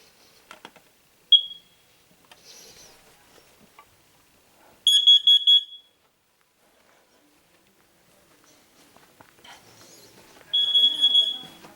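A carbon monoxide alarm being tested gives a short chirp, then two loud bursts of rapid electronic beeping separated by quiet stretches, with faint handling noise in between.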